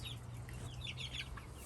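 Chickens clucking in a barn pen, soft scattered clucks and chirps that sit quietly over a low steady hum.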